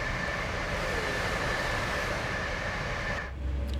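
A Koploper passenger train on the Zwolle–Groningen route in Train Sim World passes the other way as a steady, loud rumbling roar that fills the whole stretch, with a sustained tonal whine on top, then cuts off abruptly near the end.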